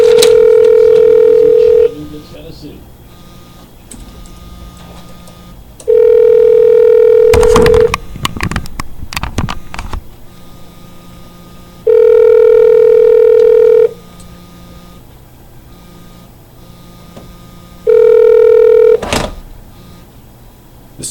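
Telephone in a Tennessee talk-radio studio: four long steady dial-tone-like tone bursts at regular intervals, broken by a cluster of sharp clicks and clunks partway through, with faint background noise between tones.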